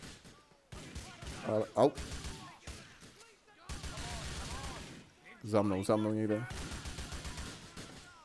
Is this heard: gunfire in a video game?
yes